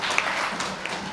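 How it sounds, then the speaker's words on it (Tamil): Audience applause at a Tamil comedy debate stage show, a dense, steady wash of many hands clapping together for just over a second with no talk above it. "இப்போ தான் நல்லா கைதட்டுருக்கேன்"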